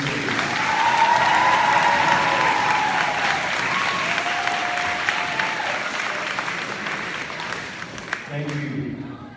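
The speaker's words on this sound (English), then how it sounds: "please give a round of applause to our coaches" Applause from a sports banquet crowd for the coaches and sponsors: a full round of clapping that swells early, holds, then gradually thins and fades near the end, with a faint voice murmur underneath.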